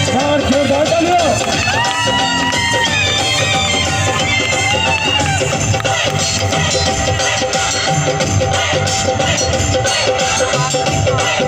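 Wedding guests at Dileep and Laxmi's marriage give the couple a dense, sustained round of applause that carries steadily through the whole stretch, with a voice speaking over the start.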